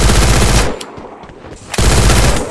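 MP40 submachine gun bursts in Garena Free Fire: two loud, rapid-fire volleys of sharp shots split by a brief quiet gap, close and harsh.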